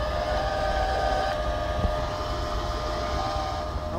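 Wire feed of a Hzxvogen multi-process MIG welder runs as a steady, fairly quiet motor whine with faint tonal hum, continuous and unbroken, with no talking.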